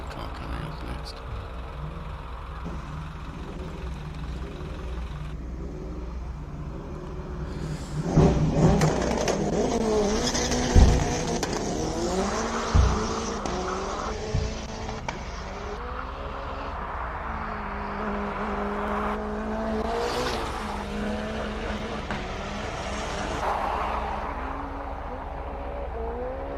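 A Suzuki Jimny race car engine revs and roars loudly driving uphill at the Simola Hillclimb, rising and falling in pitch as it accelerates, with brief sharp bangs and what may be a faint voice underneath.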